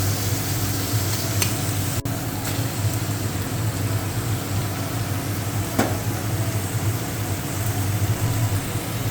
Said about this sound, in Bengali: মাছের সঙ্গে পেঁয়াজগুলো ভাজা হয়ে যাবে।